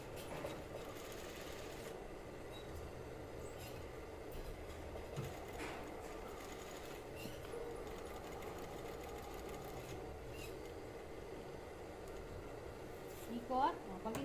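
A sewing machine stitches a welt pocket on men's trousers, running as a quiet, steady mechanical whir with light clatter beneath a voice talking throughout.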